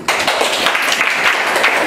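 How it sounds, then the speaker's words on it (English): A classroom of students claps together during a science lesson, a short dense burst of applause that starts abruptly and keeps going loud and steady. "Clap for him."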